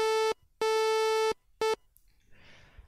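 Bright, buzzy synthesizer oscillator tone, a square or sawtooth wave, heard as three steady bursts of one held pitch separated by silences, with a short soft hiss at the end.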